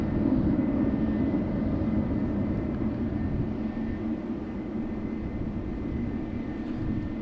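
Airliner engines at Amsterdam Schiphol Airport, a steady distant jet rumble and roar holding evenly throughout with no voices.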